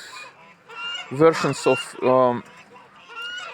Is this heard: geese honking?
yes